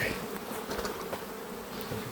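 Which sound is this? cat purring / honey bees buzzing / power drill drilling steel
honey bees buzzing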